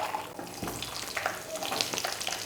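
Cumin, cinnamon and cloves fry in hot oil in a pan, producing a steady, close crackling sizzle with faint scattered pops throughout.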